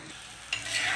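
A chapati lands on a hot griddle and breaks into a bright hissing sizzle that swells and holds, close and alone.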